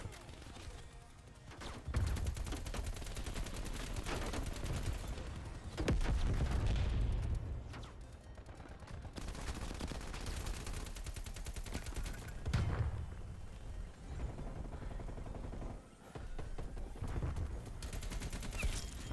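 AK-47 fire in Call of Duty: Black Ops Cold War, sustained automatic bursts with heavier booms around the two-, six- and twelve-second marks, held at a fairly low level throughout.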